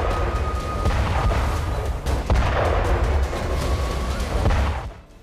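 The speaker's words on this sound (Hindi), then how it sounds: "ये धमाका जिस समंदर में हुआ वो ब्लैक सी है और जिस शिप में धमाका हुआ वो रूस का बेहद ताकतवर वॉरशिप मोस्कवा है" Rapid heavy booms and cracking bursts, like artillery or gunfire, repeat over several seconds, tied to an explosion on the Russian warship Moskva in the Black Sea, and fade out near the end.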